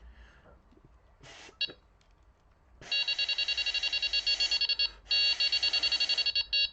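A Delkim Txi-D fishing bite alarm sounds in fast runs of rapid electronic beeps, loud and close. Two long bursts follow a few brief chirps, with quiet handling noise between them.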